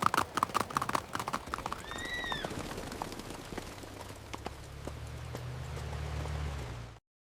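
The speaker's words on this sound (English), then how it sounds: "The horse goes into the horse box surprisingly easily." Steady clip-clop of horse hooves on a hard surface, up close, as a horse walks into a horse box, with a brief whinny early on and a low rumble building toward the end.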